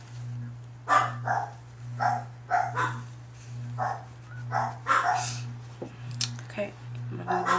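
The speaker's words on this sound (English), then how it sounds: "Those are my lovely dogs." Several dogs bark in short, repeated bursts at close range, irregular yips and barks over a steady low electrical hum indoors.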